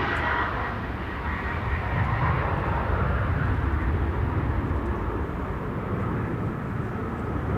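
An airliner landing on the runway at Manchester Airport, a broad, steady roar of jet engines and rushing air heard from a distance, sustained throughout without voices.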